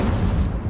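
An Incendio fire spell cast in Hogwarts Legacy, heard as a loud, dense burst of roaring flame that holds steady for under a second with a deep rumbling low end and no voices.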